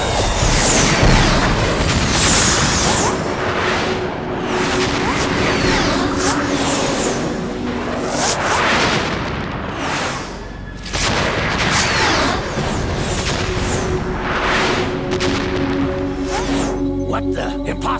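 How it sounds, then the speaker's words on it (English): Cluster bomb blasts in Metal Gear Solid 2, a rapid series of loud booms and bursts packed together over the whole stretch, with game voices shouting through the barrage. "Bomba racimo."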